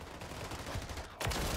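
Assault rifle fire in Modern Warfare 3, a steady stream of close shots under game ambience that breaks into a louder, denser burst near the end.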